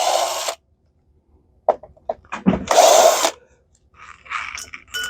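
A power screwdriver whirs in short bursts while backing out very small screws from the circuit board of a Shark 650 series vacuum, close and loud, with brief pauses and small handling clicks between runs.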